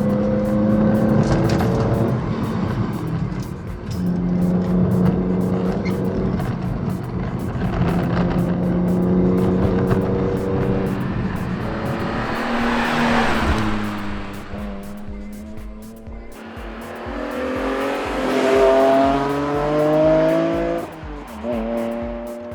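A car drives along a canyon road with its engine droning continuously and rising and falling through gear changes and acceleration, loud and close, with occasional faint road noise.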